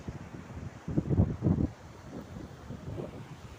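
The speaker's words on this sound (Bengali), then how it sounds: "দেখুন আল্লাহ রহমতের কত সুন্দর ঢেউ ঠান্ডা হাওয়া" Gusty cold wind buffets the microphone on the Arabian Sea shore, with louder surges in the first half over a low rumble of surf and wind.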